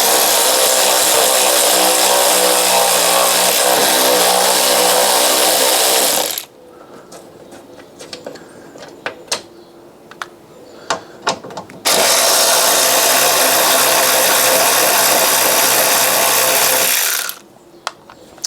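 A power drill bores holes into the front end of a crash-damaged Fiat 500 Sport, two long loud whining bursts separated by a quieter stretch of clicks and knocks, with a third burst starting at the end.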